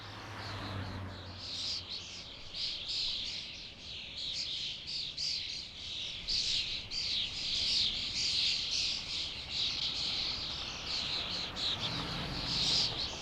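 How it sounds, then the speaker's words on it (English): Flocks of starlings flying to roost over cypress and pine trees at a cemetery in Rome fill the air with a dense, continuous wash of high chirping and twittering, steady and moderately distant. "The starlings seek refuge in the evergreen trees, but before they reach the protection of the foliage, they must fly for quite a while"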